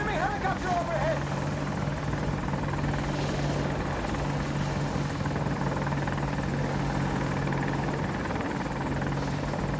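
Rotor thump of an AH-64 Apache helicopter in the video game Battlefield 2042, a steady loud drone with low hum filling the whole stretch, gunfire and game noise mixed in, with speech over it.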